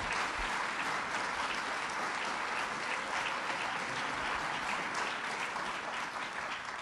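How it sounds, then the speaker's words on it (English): A crowd applauds steadily, a dense, even wash of clapping that holds for several seconds without a break. "Let's give her another round of applause"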